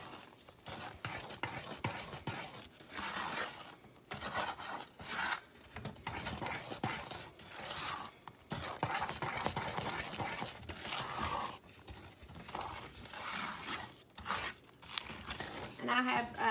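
Peanut butter fudge mixture with marshmallow cream and vanilla being stirred by hand, giving a steady run of thick scraping and rubbing strokes with short pauses, close and fairly loud throughout.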